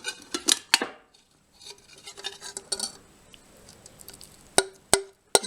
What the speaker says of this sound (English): Let's mix it with the porridge and then taste it together.